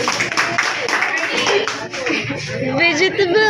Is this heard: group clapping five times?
yes